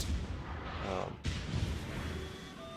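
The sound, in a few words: battleship main guns firing in World of Warships video game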